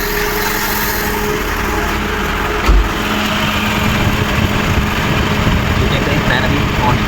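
A car engine idles with the air conditioning and radiator fan running, a steady loud drone and whir close by with a single thump partway through, and someone speaking over it.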